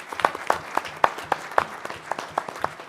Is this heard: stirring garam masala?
no